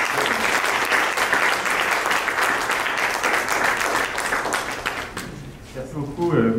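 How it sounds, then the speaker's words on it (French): An audience at a press conference applauds the winners of a design competition, a thick sustained wash of clapping that tapers off near the end as a voice begins to speak. "Nous pouvons les applaudir dès maintenant et toutes nos félicitations."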